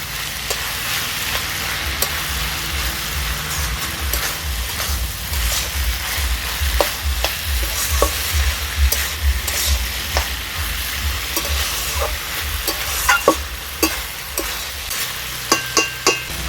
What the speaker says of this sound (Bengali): এবার এতে আমি ভেজে রাখা আলু আর চালটা দিয়ে দেব। মিশিয়ে নেব ভালো করে।